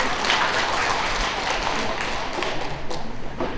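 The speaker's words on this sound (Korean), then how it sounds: "박수 한 번 더 부탁드립니다." An audience at a Korean writers' association annual general meeting claps together in steady, continuous applause, filling the room at close range.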